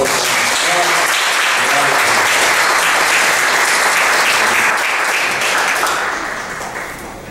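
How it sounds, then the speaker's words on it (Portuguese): A church congregation bursts into sustained, dense applause filling the room, steady and loud for several seconds before tapering off toward the end. "Aplauda o Senhor para Deus."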